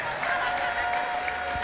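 A church congregation claps together during a worship service, a steady wash of applause held throughout, with a voice briefly audible over it.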